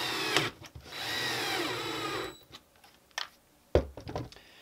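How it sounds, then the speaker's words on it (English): Screws driven into the back of a wall mount with a power driver: a quiet whirring run of about a second and a half, then soft clicks and handling noises. "take the screws that you have given in this kit and screw them into the back"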